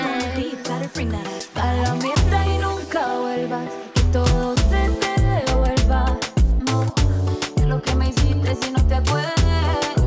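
A moombahton remix of a song plays with a punchy kick, new snares and a full low 808 bass under a melodic synth line, steady driving beat throughout.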